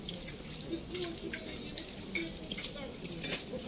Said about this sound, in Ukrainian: Чайник заварний.